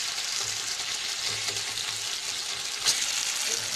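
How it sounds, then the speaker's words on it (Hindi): Soft sizzling in a pan with gentle scraping, stirring and mashing of tomatoes for baingan bharta, steady and close, no voices. "इसे हम अच्छे से हिला देते हैं।"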